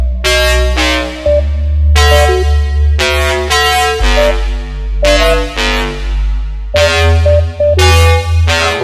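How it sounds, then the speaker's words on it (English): A deep, blaring synthesized foghorn tone sounds in repeated bursts, layered with bright sustained synth chords in a looping pattern. "so this foghorn kind of thing here, it's very basic."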